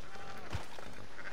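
A sheep bleats once, short and fairly close, in the open-world Western game Red Dead Redemption 2, with outdoor ambience around it.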